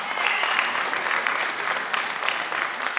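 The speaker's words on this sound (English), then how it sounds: "clap your hands if you know Big Helen Drzenovich" An audience at a school centennial celebration applauds, a dense, steady patter of many hands clapping together at moderate distance.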